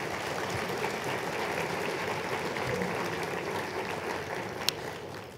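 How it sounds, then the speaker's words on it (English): Audience applause at a medical school Match Day ceremony: a steady, moderately distant wash of many hands clapping throughout, with no voices over it. "So, round of applause for that"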